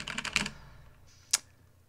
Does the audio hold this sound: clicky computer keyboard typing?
yes